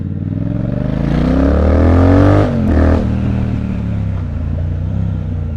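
Triumph Speed Twin exhaust revving up loudly close by, the engine note climbing in pitch for about two seconds before dropping back and settling into a steady, throaty idle, with no voices.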